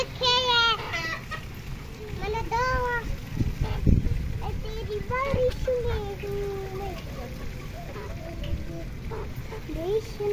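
Chickens cluck and squawk repeatedly, close by, with voices talking among them and rustling in the background.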